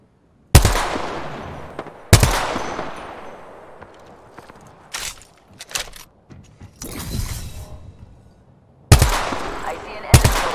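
Gunfire from Apex Legends comes in several loud, sharp bursts with ringing decay, separated by quieter gaps holding faint clicks and movement sounds.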